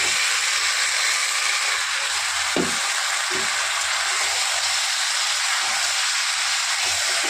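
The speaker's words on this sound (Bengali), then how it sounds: "এই ভাজা চিকেনটা এর মধ্যেই দিয়ে দিচ্ছি" Fried chicken pieces sizzling in a pan with capsicum, onion, tomato and green chilli masala, a steady loud hiss close by with a couple of brief stirring knocks partway through.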